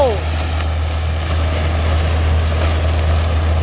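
A CASE 9900 tracked sugarcane harvester runs with its Italian Iveco six-cylinder turbo 420-horsepower engine, a steady loud droning hum with a deep low tone throughout.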